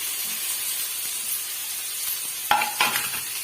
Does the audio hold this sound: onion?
yes